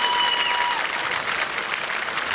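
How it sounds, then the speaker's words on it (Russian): Boxing spectators applaud steadily after a knockout in the Sergey Kovalev vs Roman Simakov fight, a dense, even wash of clapping from a large crowd that fills the whole moment. "зрители аплодируют Симакову"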